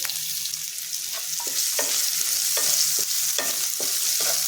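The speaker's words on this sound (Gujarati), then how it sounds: "તો ગેસની ફૂલ ફ્લેમ પર આપણે ડુંગળીને સાતળી લઈશું।" Chopped onions sauté on full flame in a spiced oil tempering with asafoetida and green chillies, a steady loud sizzle with repeated scraping strokes of a stirring spoon at a regular rhythm, close by and without talk.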